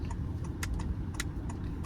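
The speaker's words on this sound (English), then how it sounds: "when the engine is idling, it is very silent, almost effortless" A quiet, steady low rumble of a Honda HR-V 1.5-liter turbo engine idles throughout, with a few faint light clicks and ticks on top.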